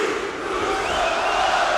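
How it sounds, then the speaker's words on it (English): A wrestling arena crowd at a tag team championship match roars and cheers loudly and steadily, a dense sustained wall of voices with no individual speech standing out. "This crowd showing their support for both teams"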